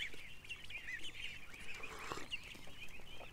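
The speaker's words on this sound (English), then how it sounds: "The ducks are just pounding in my back end here." Ducks quacking repeatedly outdoors at a backyard farm, a busy overlapping chorus of nasal calls at moderate distance, fairly soft but continuous, with no talk.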